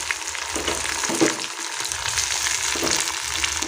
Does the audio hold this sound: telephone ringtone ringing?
no